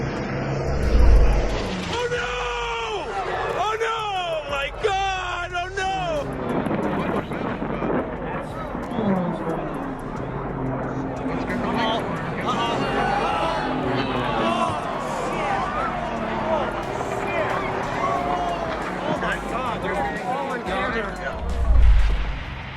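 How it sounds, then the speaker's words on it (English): A Harrier jump jet loses control after a low roll and ditches into the sea at the Lowestoft Air Festival in 2002. A jet whine sweeps up and down over crowd noise and voices, with heavy thumps at the start and end. "The Harrier jumped jet ditches into the sea at Lowestoft Air Festival, 2002."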